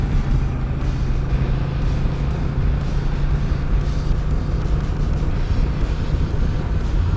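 Honda Rebel 1100 DCT motorcycle cruising in sport mode, a steady low engine drone with heavy wind rumble that stays loud and constant throughout, no speech.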